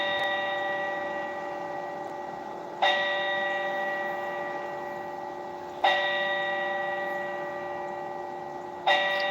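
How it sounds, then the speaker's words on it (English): A church bell tolls slowly at even intervals of about three seconds, each bright, clanging strike fading in a long ring before the next. The first strike is already ringing as the sound begins. "So they did four bells."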